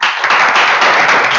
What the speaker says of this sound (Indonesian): Tepuk tangan untuk Agatha.